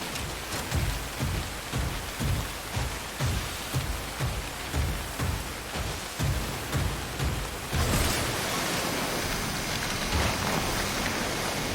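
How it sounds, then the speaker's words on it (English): Heavy rain falls in the video game Synduality Echo of Ada as a dense, steady hiss. Rhythmic thumping footsteps run underneath at first, then the downpour swells louder and fills the clip alone. "Find cover from the rain on the double."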